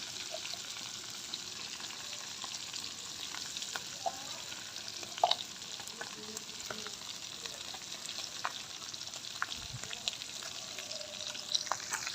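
Ginger and garlic paste frying in a pan of melted fat for a beef korma, giving a steady close sizzle and crackle that runs for the whole stretch, with a few louder pops and small clinks of stirring and no talk.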